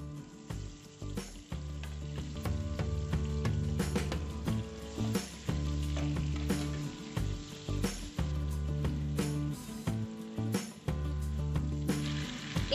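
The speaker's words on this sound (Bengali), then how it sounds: "আমি আবারও তেল অ্যাড করছি। এবারে আমি দিয়ে দেব হলুদ মাখা চিংড়ি মাছগুলো," Turmeric-coated prawns frying in oil for a masala broccoli dish hiss and crackle loudly up close, with sizzling bursts, stirring clatters and shifting pops in an uneven rhythm.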